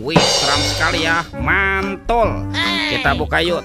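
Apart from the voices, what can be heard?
No everyday noise stands out behind the speech.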